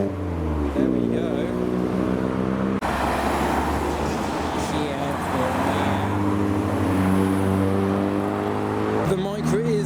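Tuner cars pulling into a Japanese car meet in Reading, among them a Porsche Turbo, with loud, steady engine drone and revving that shifts in pitch throughout, under occasional talk.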